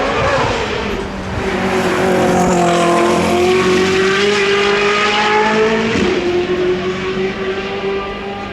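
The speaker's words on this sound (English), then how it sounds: "For such a cool car, the F80 actually sounds terrible." A high-revving F80 sports car engine screams nearby, its pitch climbing and holding through gear changes with a brief dip, loud and continuous.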